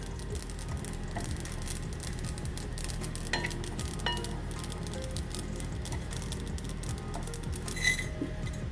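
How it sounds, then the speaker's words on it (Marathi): Mace (javitri) dry-roasts in a pan with a soft, steady crackle and scraping stirs, faint clicks of a utensil against the pan now and then. "जायपत्री भाजून घेते."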